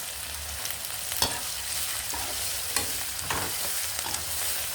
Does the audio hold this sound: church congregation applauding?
no